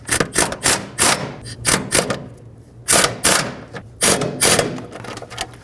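Ratchet tightening alternator bracket bolts on a 2012-2020 Nissan Pathfinder, heard as close, rhythmic bursts of clicking in short runs with brief pauses between strokes.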